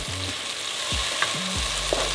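Onion and tomatoes frying in a pan, a steady close sizzle with a few short stirring scrapes and clinks over it, no voices.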